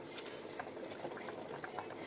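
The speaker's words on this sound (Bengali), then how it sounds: "খিচুড়িটা কিন্তু একদম আমার টকবক টকবক করে ফুটছে" Khichuri bubbling in a pot on a rainy day, a soft steady boiling burble with small pops and blips, quiet and close, no voices.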